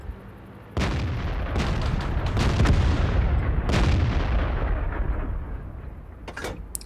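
A tank cannon fires in World of Tanks: several heavy booming shots, each a sharp blast trailing into rumbling decay, loud and spaced a second or more apart, with no voices.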